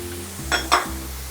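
Lemongrass and chili powder sizzle steadily in a hot pan, with two brief scraping stirs standing out near the middle of the close, continuous frying hiss.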